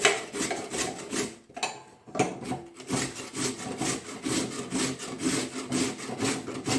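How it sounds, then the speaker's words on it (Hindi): A peeled white radish (mooli) is rubbed over the coarse side of a kitchen grater in steady, rhythmic rasping strokes, close and clear, with a brief pause partway through. "अब इसको कद्दूकस कर लेते हैं।"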